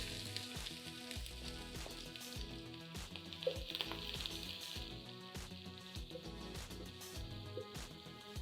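Onions frying in oil in a pot, a steady close sizzle with crackling and occasional stirring scrapes, continuous and even throughout.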